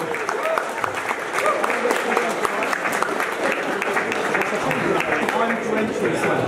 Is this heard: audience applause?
yes